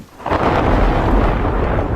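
Loud rolling thunder from a thunderstorm, a sustained low rumble that swells in and carries on without pause, with no voices.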